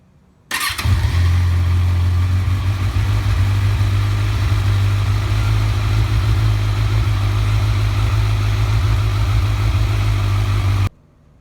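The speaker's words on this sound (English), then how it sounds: "We let the bike run for about 45 seconds or so." Kawasaki Z1000 street bike engine starting and then idling steadily after an oil change, a loud, close, constant low rumble that holds for about ten seconds before cutting off.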